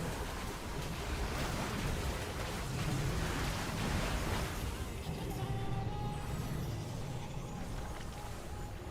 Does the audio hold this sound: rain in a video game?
yes